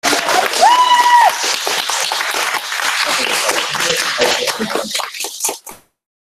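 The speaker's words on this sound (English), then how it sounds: "Get a louder round of applause." Audience applause at a leadership event, a close, steady wash of clapping that thins and fades out near the end, with brief voices early on.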